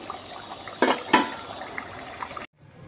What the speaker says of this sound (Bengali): এই দেখো আর একটু জল মনে হলো দিতে হবে, এই যে দিয়ে দিচ্ছি।